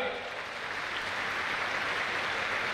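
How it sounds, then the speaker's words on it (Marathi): Clapping from an audience at a youth festival opening ceremony, a steady broadband wash of many hands that holds at an even level throughout with no pauses. "थोडं जोरदार टाळ्या वाजवा"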